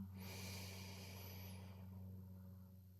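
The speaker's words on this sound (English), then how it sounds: "One more, breathing in." A slow, steady inhale through the nose during a children's bedtime breathing exercise, soft and close, rising then fading over a few seconds over a faint low hum, with no talking.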